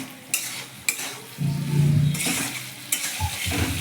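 Prawns are stirred into a simmering taro curry, with a spoon scraping and clinking against the pot in a few sharp strokes over a steady low bubbling sizzle, close and moderately loud, with no voices.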